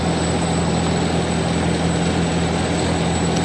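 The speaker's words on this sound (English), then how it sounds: "There's an aircraft up there." An aircraft passes over the Starbase launch site in Texas, a loud, continuous broadband engine roar with a steady hum that holds evenly for the whole stretch.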